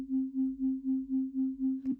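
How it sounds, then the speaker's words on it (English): Two synthesizer oscillators detuned 4 hertz apart hold a single steady tone whose loudness pulses evenly about four times a second, a smooth 240 BPM wobble, heard alone with a brief blip at the end. "if we detune this by 4 hertz, we should get a 240 BPM wobble"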